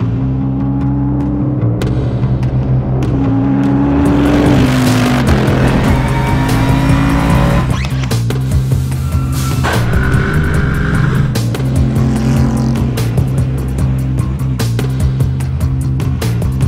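A Bentley Continental GT3 race car at Goodwood is driven hard, its loud engine holding steady and then rising through the gears, with brief tire squeal, heard close and continuously with no voices.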